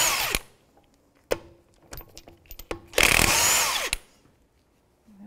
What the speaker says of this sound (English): We're going to take the lug nuts out, and these are studs.